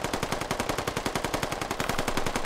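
Rapid automatic gunfire in a tactical military video game, fast evenly spaced bursts of shots filling the whole stretch at a moderate level, with no talk over them.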